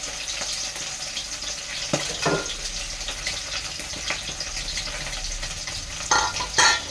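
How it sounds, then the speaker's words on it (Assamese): Fish frying in hot oil in a pan, a steady crackling sizzle close by, broken by a few sharper spits and scraping stirs, growing louder toward the end, no talking. "মাছটো ভালকৈ ভাজি লৈছোঁ"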